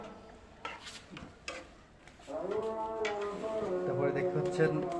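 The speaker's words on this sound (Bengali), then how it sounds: "সুন্দর করে ছুন্নি দিয়ে মানে চামচ দিয়ে লেড়ে চেড়ে লবণটাকে মিশিয়ে দেওয়া হচ্ছে" A spoon stirs salt into food in a cooking pot, with a few metallic clinks and scrapes, then a sustained bubbling sizzle that rises midway; a person speaks over it.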